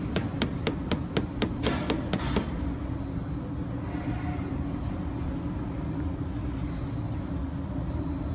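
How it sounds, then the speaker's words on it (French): A hammer taps a wheel of Comté cheese in the Jura, France, checking for defects. About ten quick, light, evenly spaced knocks come in a row, then stop, leaving a low background rumble. "Donc le marteau pour écouter les différentes sonorités, pour détecter les éventuels défauts ou ouvertures."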